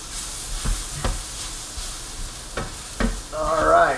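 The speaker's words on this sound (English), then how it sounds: "And just keep stir frying." Vegetables stir-fry in a hot pan, sizzling steadily, with a few sharp scraping stirs of a utensil and a brighter hiss rising near the end.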